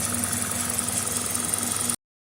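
A 2000 Toyota Celica GTS engine idles steadily and close by with a faint rattle, its idle speed adjusted through the IAC valve, then cuts off abruptly near the end.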